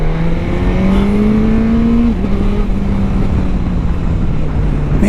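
A Suzuki GSX-S1000GT motorcycle accelerates hard with a loud, close engine whine that climbs in pitch, dips once at a gear change, then holds a steady high drone over wind rush.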